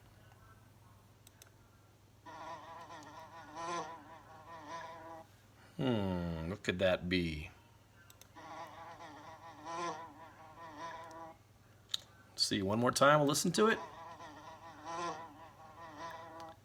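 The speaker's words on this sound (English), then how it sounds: "It's a bee." Bee buzzing in bursts between a teacher's speech, with goose-like honking calls standing out in between, moderately loud and close.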